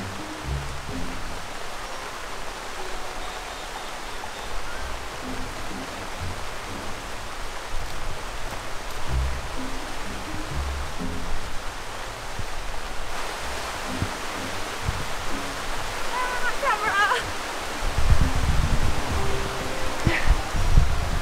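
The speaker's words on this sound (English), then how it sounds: "This is a lot of rain." Steady, dense rain pours down around a truck in Mexico, a constant hiss with heavier drumming and splashes building toward the end.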